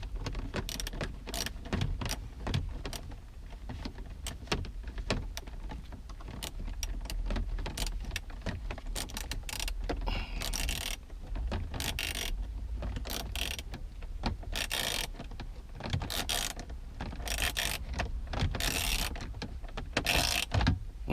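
Close metallic clicking and ratcheting while a bolt is tightened on a car's push start/stop button, with rapid rattling and jangling throughout.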